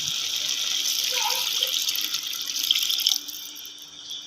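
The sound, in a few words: water poured into cooking pan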